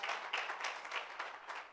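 A church congregation applauds together, a steady burst of many hands clapping at close range that fades slightly by the end.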